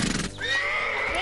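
A horse on a farm gives a loud, close whinny that rises and then holds as a long, wavering neigh, heard alone without speech.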